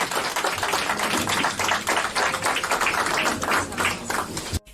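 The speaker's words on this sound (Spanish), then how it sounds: "Vamos a alabar a Cristo con nuestras palmas." A church congregation claps its hands together in praise, making a dense, continuous patter of many overlapping claps at fairly close range, with a faint low hum underneath, ending abruptly.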